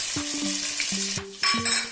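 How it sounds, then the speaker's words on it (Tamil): Garlic and ginger sizzle steadily in hot oil while a utensil stirs and scrapes against the pan, with a few clinks, close and continuous. "இப்ப இஞ்சி பூண்டு வதங்கிட்டு இருக்குங்க"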